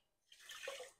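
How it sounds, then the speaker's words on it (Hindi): Water poured from a bowl into a pot for making rasgulla sugar syrup, a short, faint splashing pour that swells and then tapers off, alone without talk. "मैं कम से कम 6 कटोरी इसमें डाल रही हूँ पानी की।"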